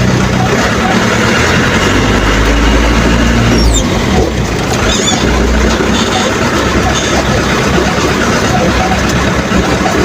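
Mazda 3500 truck engine running loud and steady at close range while the driver shifts into second gear, a continuous low rumble with a brief dip in the middle.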